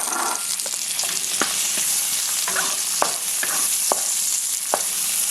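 Carrots fry in a hot pan for Vietnamese crispy chow mein, giving a loud, continuous sizzle broken by a few sharp stirring scrapes and taps.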